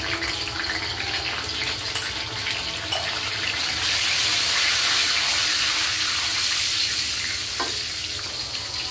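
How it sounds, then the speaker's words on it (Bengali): Onion fries in oil with whole spices like bay leaf, cloves, cinnamon and cardamom, giving a loud, continuous, dense hiss that barely varies throughout, with no voices. "পেঁয়াজটা আমি একটু ব্রাউন কালার করে ভেজে নিব"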